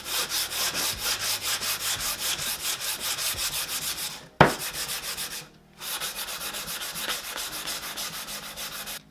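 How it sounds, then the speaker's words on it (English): Rough, low-grade wood is smoothed with a small hand-held sanding block, the rhythmic back-and-forth scraping strokes steady and close, broken by a sharp knock and a brief pause before the sanding resumes. "it's just on a little sanding block"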